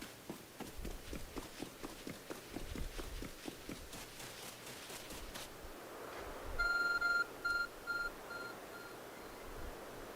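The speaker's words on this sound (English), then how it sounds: "There's a glowing, beeping object over there." A glowing object beeps in the video game Pokemon Legends Arceus, a short series of clean electronic tones in a broken pattern that comes in after a run of hoofbeat-like footsteps fades.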